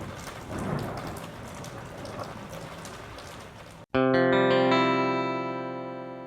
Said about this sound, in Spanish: Y se cubrió el cielo de nubes y cayó una gran lluvia